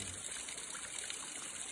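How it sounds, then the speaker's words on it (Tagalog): Water trickling from a tap into a catch container in a barangay: a faint, steady trickling stream running continuously, quiet and close, with no talk. "ang tulo ng tubig dito sa salulo ay napakaunti"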